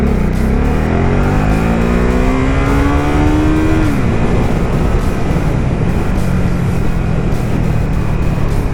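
A 2019 Ducati SuperSport 950 with its stock exhaust revs hard, climbing in pitch for several seconds before a sudden drop into a loud, rough roar, heard close and continuous.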